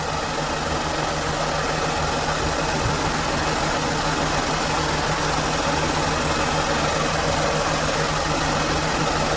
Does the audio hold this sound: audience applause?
no